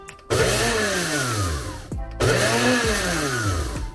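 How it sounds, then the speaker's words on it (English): A blender grinds a quarter cup of chia seeds on their own, loud and steady, in two bursts with a brief pause between them. "I just put this by itself and blend it up a little bit so it gets all ground up"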